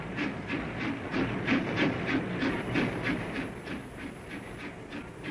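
A goods train rolls past on a quiet Somerset branch line, a steady clickety-clack of wheels over rail joints in an even rhythm with a hissing rumble, moderately close and without voices.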